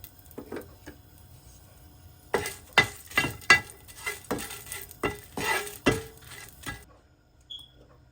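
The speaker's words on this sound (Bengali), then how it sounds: "শুকনো মরিচগুলো কড়াইয়ের মধ্যে ভেজে নেব।" Dried chillies fry in a wok as a spatula scrapes and clacks in a quick, regular rhythm over a light sizzle. The stirring stops abruptly into near silence at the end.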